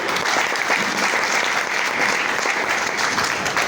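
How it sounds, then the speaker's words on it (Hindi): Steady applause from an audience at a marketing income-plan presentation, continuous clapping throughout at a fairly even level. "तो इस प्लान के लिए एक बार जबरदस्त तालियां"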